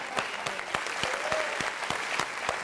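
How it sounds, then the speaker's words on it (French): A small group claps in an uneven, fairly sparse pattern, with distinct individual claps landing in a loose rhythm for a few seconds and faint voices underneath. "On applaudit parce que ça allait."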